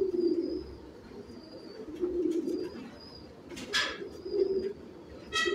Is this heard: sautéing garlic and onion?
no